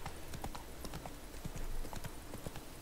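Horse hooves trotting on town streets in The Witcher 3, a steady repeating clip-clop at moderate distance with no talk over it.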